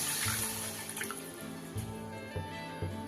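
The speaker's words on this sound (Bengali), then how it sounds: "এবার দিয়ে দেব জল।" Water is poured into a pan of potatoes and cauliflower being cooked in a spiced curry, giving a steady splashing stream under faint background clatter.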